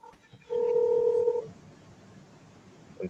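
A single telephone dialing tone sounds clearly for just under a second, then stops, leaving quiet room noise and a faint click at the end.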